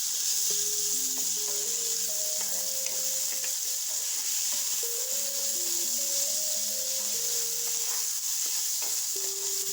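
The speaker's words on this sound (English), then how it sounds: "So you're gonna add it to the pot, and then you're gonna saute it for like 2 minutes." Seasoned cabbage sautéing in a pot for a cabbage and saltfish dish, a bright continuous hiss of frying with light stirring, under a melodic background tune.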